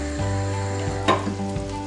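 Kerala-style tomato rasam bubbles in a pot after a sprig of curry leaves goes in, giving a short burst of soft sizzling and popping against a steady background hum.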